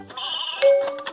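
A toy farm-animal puzzle plays a recorded sheep bleat, one short, close electronic baa about a second long.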